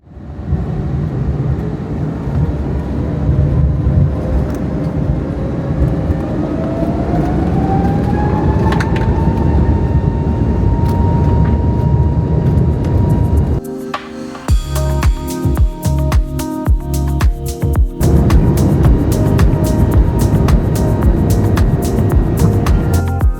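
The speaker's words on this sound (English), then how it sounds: "Now enjoy that crisp, yet quiet Pratt & Whitney engine accelerate." The Pratt & Whitney engines of a Qantas A321XLR accelerate for takeoff, a loud sustained roar with a rising whine, heard from inside the cabin, growing rougher and more rattling as the jet speeds down the runway.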